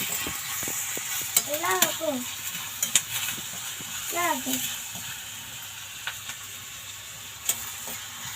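Grated coconut and curry leaves are stirred in a hot pan for a mushroom curry, a soft sizzle under scattered spoon scrapes and clicks, with a couple of brief vocal sounds nearby.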